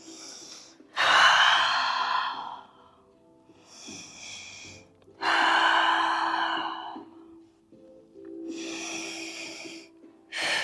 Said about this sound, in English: Let's fog that window. 3 deep breaths.